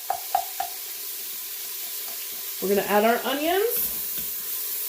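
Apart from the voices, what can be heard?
onions sizzling as they are added to a hot pan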